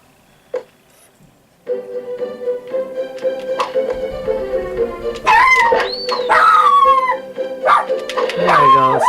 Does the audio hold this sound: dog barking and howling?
yes